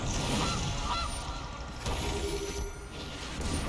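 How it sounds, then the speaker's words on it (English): In MTG Arena, the Gilded Goose card gives a goose honk as it enters play, heard alongside busy game effects and a fairly loud, continuous background sound. "Gilded Goose hits the board."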